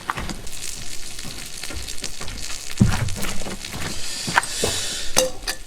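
An omelette sizzles and crackles in a pan on a Trangia Mini camping stove, with soft steady frying close by and occasional clinks of utensils against the pan.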